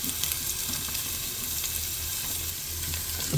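Garlic, ginger and onion sautéing in oil for chicken tinola, a dense, continuous sizzle with light crackles and faint stirring, close and even in loudness, with no one speaking.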